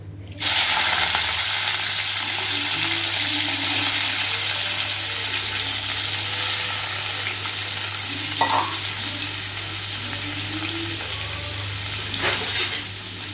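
Half a kilo of raw broiler chicken goes into hot oil with a sudden loud onset of frying, then a steady, dense sizzle with occasional stirring clatters, close by.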